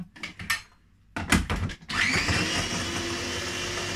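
A blender grinding Brazil nuts into powder: a few short pulsed bursts with brief pauses, then a loud, continuous high whirring run that holds steady to the end, with no talking.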